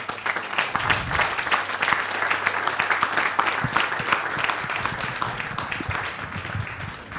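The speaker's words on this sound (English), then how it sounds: "And again, a round of applause, please." Crowd applause at the grand opening of the Delta Electronics office in Helmond, a continuous dense clapping of many hands, loud and sustained, with a few faint voices mixed in.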